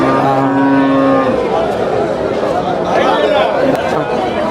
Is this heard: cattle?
yes